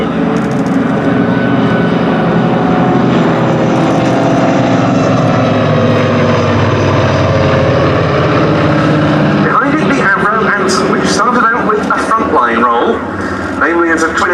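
A twin-engine Avro Anson coastal reconnaissance plane flies at a Duxford VE Day airshow, its steady propeller drone loud and continuous, with a voice commentating over it throughout.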